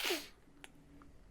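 A single sharp human sneeze at the start, a loud close burst that cuts off quickly, followed by faint room noise and a small click.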